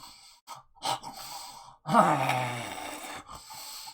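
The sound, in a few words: voice imitating an old dwarf snoring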